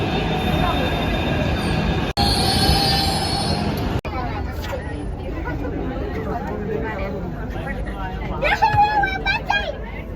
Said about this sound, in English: now the train has come